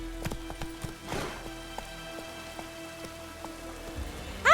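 Hooves of Roach, a horse in The Witcher video game, clop in a slow, uneven rhythm of distinct steps over steady rain, with brief speech in the middle.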